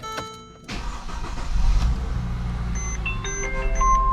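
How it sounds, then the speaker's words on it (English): A 2011 Mercedes-Benz GLK 350 starts up: a brief electronic chime, then the starter catches and the engine settles into a close, steady idle, followed by a series of short dashboard warning beeps. "So if I start the car, things should be illuminated."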